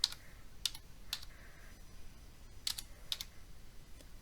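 Sparse key presses on a computer keyboard, a handful of crisp clicks spaced irregularly over a few seconds, quiet and close with no talking.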